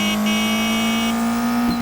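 A car engine drones steadily in a Midnight Works SRL racing game played in test drive mode, holding a constant, loud motor tone that barely changes pitch throughout, with no voices.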